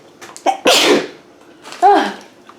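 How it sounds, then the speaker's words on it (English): One person sneezes sharply. The sneeze comes as a quick intake followed by a loud burst and a second softer burst a moment later, close and clear, with brief murmuring around it. "I'm gonna sneeze."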